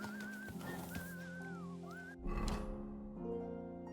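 A player character whistles for a horse in the video game Kingdom Come Deliverance 2, a melodic gliding whistle rising and falling over steady background game music and ambience, then cut off as other game sounds take over.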